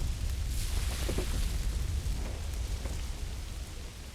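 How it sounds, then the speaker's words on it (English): Steady rain falls in the medieval town-building game Manor Lords, a dense even hiss with a low rumble beneath, constant for the whole stretch with no voices. "It's raining, too."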